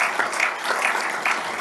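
Applause from the audience at an award ceremony for women in peace and security, a dense, fairly even wash of clapping with a few sharper claps standing out briefly, and no voices.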